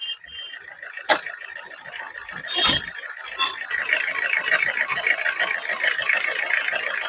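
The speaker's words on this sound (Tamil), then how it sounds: "இன்ஜின் ரன்னிங் பாருங்க." A Tata Sumo Victa's engine idles with a steady mechanical rattle, joined by a couple of sharp clicks and knocks, running evenly throughout.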